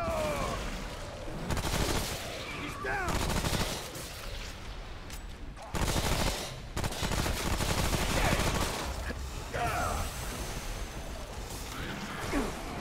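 Heavy gunfire in Remnant: From the Ashes during a giant Groot boss fight, loud repeated bursts and sustained volleys with short pauses, amid chaotic game noise and occasional player voice.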